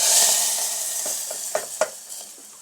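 Tempering of curry leaves and onion poured into a lentil curry with drumstick leaves, a soft fading sizzle followed by a couple of sharp clinks of a spoon or pan, with no talking.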